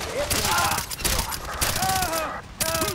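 Rapid bursts of automatic gunfire in the Far Cry Primal video game, dense and loud, rattling on through nearly the whole stretch with brief gaps, while voices shout over the shooting.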